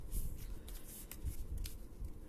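A deck of Pokemon trading cards being shuffled by hand, soft papery riffles and flicks in quick irregular bursts, quiet and close with no talking.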